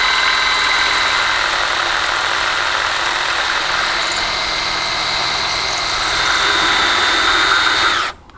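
A power drill with a sharp bit bores into a 1967-68 Mercury Cougar grille, whining continuously and loudly for about eight seconds before stopping abruptly.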